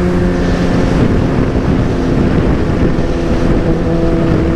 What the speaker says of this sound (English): Bike is pulling hard.